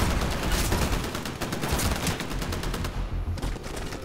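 Rapid automatic gunfire and overlapping shots from the Titanfall shooter game crackle loudly and almost continuously in dense bursts, easing slightly toward the end.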